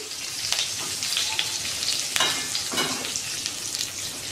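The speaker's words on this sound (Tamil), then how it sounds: "அதனால தான் நம்ம எண்ணெயில் போட்டு இதை வதக்குறோம்" Steady crackling sizzle of coriander, chili, turmeric and cumin powders frying in hot oil, with occasional sharper pops and stirring scrapes, close and continuous.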